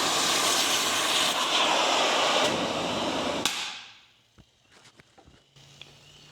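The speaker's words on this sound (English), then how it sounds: "I'm not super good at cutting with a torch" A metal-cutting torch works on a York rake being restored, giving a loud, steady roaring hiss that cuts off abruptly partway through. Faint clinks and small knocks follow in near quiet.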